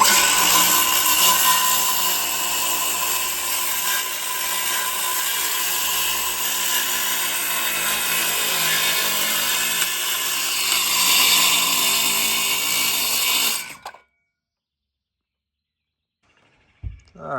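A loud, close power saw runs steadily through a plywood piece for a rear casting deck, then cuts off abruptly and leaves near silence with a faint clatter.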